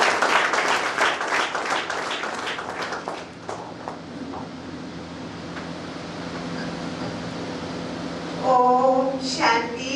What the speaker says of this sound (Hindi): जोरदार ताली स्वागत करें।